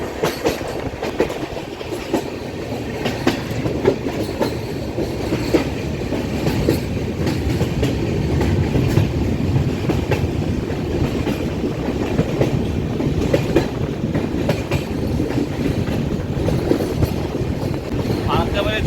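The 13182 Kaziranga Express from New Coochbehar to Kolkata runs near Farakka, with a continuous heavy rumble of wheels on track and intermittent clicking joints, loud and close, under faint indistinct voices for nearly twenty seconds.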